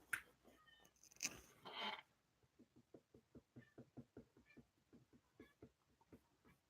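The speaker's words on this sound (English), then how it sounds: "now my cat wants to walk around meowing for no reason." A house cat makes a few quiet, drawn-out meowing cries, then a run of soft, evenly spaced taps like paws or footsteps. The whole sequence is faint and close in a quiet room.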